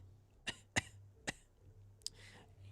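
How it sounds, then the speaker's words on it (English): A woman gives a few slight coughs, three short bursts close together near the mic, followed by a softer breathy throat noise; the coughs are quiet and nearby, over a faint low hum. "She coughs slightly."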